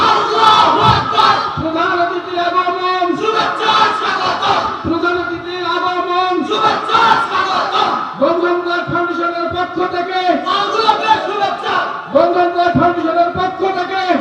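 A large crowd at an outdoor Islamic sermon gathering in Naogaon chants a takbir battle cry, loud and close, with massed voices surging and falling in a repeated rhythmic call-and-response.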